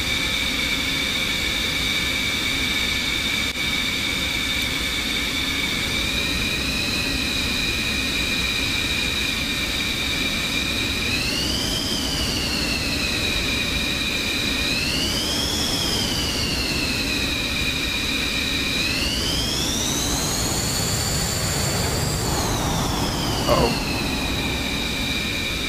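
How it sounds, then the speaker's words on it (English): F-16C Viper jet engine turbine in the DCS flight simulator, a steady loud whine with a sustained high tone that rises and falls in pitch several times over a rumbling roar, with no talking. "you can see the turbine spinning"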